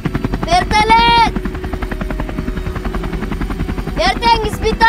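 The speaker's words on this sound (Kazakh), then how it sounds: "Вертолет!" A helicopter in flight, from a Kazakh film trailer, gives a loud, steady thumping rotor drone throughout while shouting voices rise over it at the start and again near the end.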